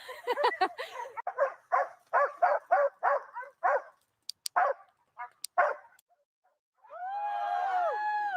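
Several dogs bark in excited chaos: a rapid run of sharp, close barks and yips, a few scattered bursts, then a drawn-out high whine at the end.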